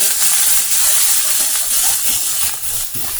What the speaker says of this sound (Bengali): ভালো করে দেখো ভাজা করে নিচ্ছি পেঁয়াজটা